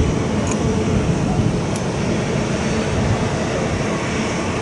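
A propeller airliner at Chubu Centrair airport, watched from the sky deck, gives a steady broadband engine roar that fills the whole stretch with no letup, with no clear talk over it.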